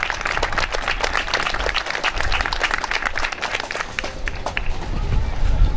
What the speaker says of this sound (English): we could have a big round of applause for our major suppliers